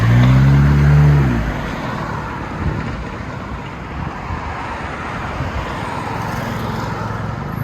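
A 2017 Nissan Juke Nismo Turbo fitted with a Flowmaster Flow FX exhaust on a two-and-a-half-inch system gives a deep engine drone for about a second, then a steady broadband rush, with no voices.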